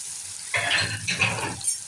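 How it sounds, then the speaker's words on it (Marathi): Crushed green chilli thecha is sautéed with salt in a pan, giving a short close sizzle and stirring scrape that starts abruptly and carries on in uneven bursts. "तो आता मी मीठ व्यवस्थित असा परतून घेते"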